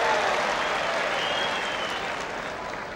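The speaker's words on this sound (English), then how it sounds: "Round of applause for the false serve." Tennis crowd at a World TeamTennis match applauds a serve in a steady wash of clapping that fades slowly, spread wide and moderately loud without voices.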